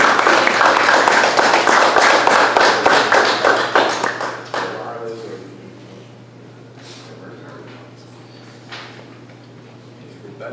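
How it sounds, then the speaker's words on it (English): Audience applause at a diversity and inclusion forum, welcoming a speaker to the podium: dense, steady clapping for about four seconds that thins out and gives way to quiet room tone with a few faint knocks. "So give him a round of applause and welcome him to the podium."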